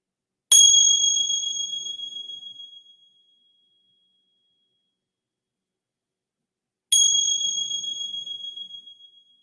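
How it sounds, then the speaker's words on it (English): A meditation bell is struck twice, several seconds apart, each strike ringing out clear and bright with a long, slowly fading shimmer into near silence. "and receiving the sounds of the bell"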